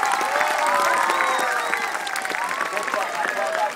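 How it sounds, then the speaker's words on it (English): An audience at a wildlife show at Healesville Sanctuary applauds a bird returning to its aviary, with steady, dense clapping and light crowd noise that fades slightly toward the end. "he needs to get a really big round of applause to head off home"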